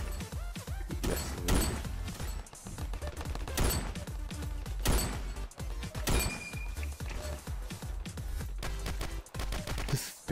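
Rapid pistol gunfire from a Ravenfield battle, with sharp repeated shots in bursts and scattered distant firing, loud and dense with little pause, almost no talk over it.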